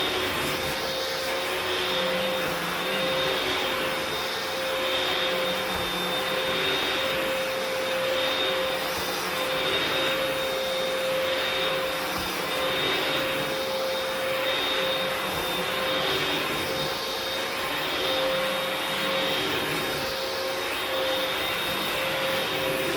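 A Hoover PowerDash carpet cleaner runs continuously, a loud, steady motor whine with a high tonal note and gentle rhythmic swells as it is pushed back and forth, no voices.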